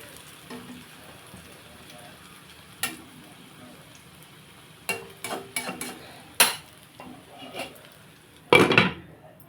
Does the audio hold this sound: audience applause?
no